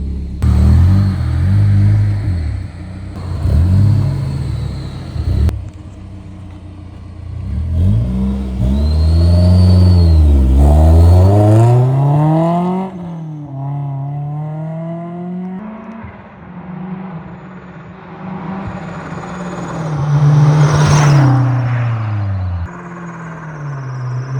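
A supercharged Honda S2000 revs loudly up through several gears, the engine note climbing and dropping with each shift, then easing off and pulling hard again near the end, close and continuous with a supercharger whine.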